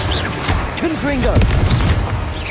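A Confringo fire spell blast in Hogwarts Legacy goes off with a loud booming burst amid dense game noise, while voiced character sounds rise over it.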